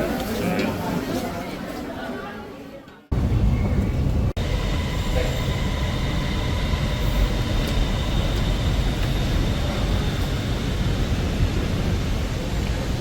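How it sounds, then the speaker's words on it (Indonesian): Bangkok MRT metro train at Phetchaburi station, a loud steady rumble and rolling roar of the carriages with wheel noise, after a short muffled stretch with background chatter and a sudden cut. "Sekarang kita ada di stasiun MRT Phetchaburi."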